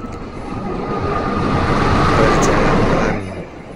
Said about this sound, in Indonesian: Segera lewat kereta api Argo Wilis, keren. Lewat sini tidak ngebut teman-teman